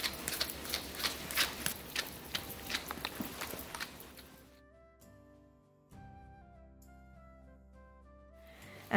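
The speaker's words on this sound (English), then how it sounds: "now you can just hear the brush with no resistance in the coat" A grooming brush sweeps through a Westie-type dog's coat in steady rhythmic strokes, close and soft, then fades out as a quiet tonal hum lingers.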